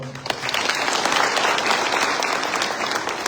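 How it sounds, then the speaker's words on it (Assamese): Steady applause from an audience at a political party joining event in Duliajan, approving newly named committee members; dense clapping fills the whole stretch with a faint voice briefly audible at the start. "এবাৰ সকলোৱে হাত তালি বজাই অনুমোদন দিব"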